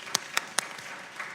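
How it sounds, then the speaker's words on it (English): A few sparse, separate handclaps at a committee hearing on juvenile justice reform, faint and spaced out in a quiet room rather than full crowd applause. "I'm going to applaud because I'm very happy for them to be here"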